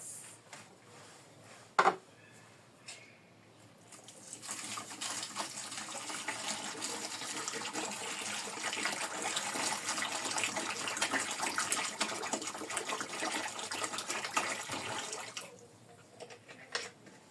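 Water pours steadily into a container for about eleven seconds after a brief clink, with a soft rushing splash, then stops, while mixing salt with water for homemade fabric softener and toilet cleaner.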